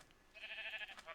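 A single sheep bleats in the Minecraft video game, one short wavering call, fairly close but not loud.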